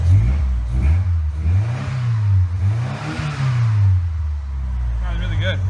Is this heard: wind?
no